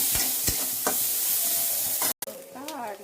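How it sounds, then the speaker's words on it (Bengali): Onion fries in oil in a pan with a continuous sizzle, punctuated by stirring scrapes, a brief dropout and a short burst of nearby speech-like sound near the end. "তেলে এবার পেঁয়াজটা দিয়ে ভেজে নেবো।"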